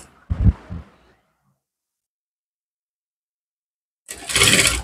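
An electric sewing machine stitches a chudidhar pant in two short motor runs: a brief whir near the start, a long stretch of silence, then a louder run at the end.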